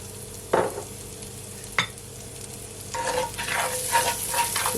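Garlic and onion sizzling in melted butter, a continuous soft hiss broken by a few sharp spatters and stirring clicks, growing busier toward the end.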